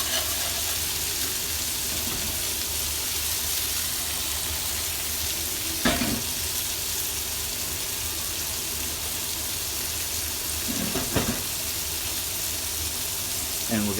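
Sous vide steaks searing in a hot pan, fat rendering, give a steady broadband sizzle across the whole stretch, with a couple of brief clatters of utensils or pan movement near the middle and later on.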